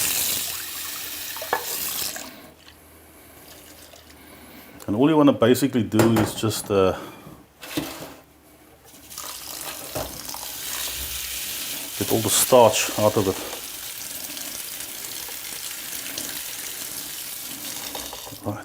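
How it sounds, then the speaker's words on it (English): Tap water running over rice in a colander in a home kitchen while a lamb and chickpea curry is prepared, a steady wash of water with metal and dish clatter, someone talking over it at times. "Now I'm going to strain the rice and I'm going to give it a steam."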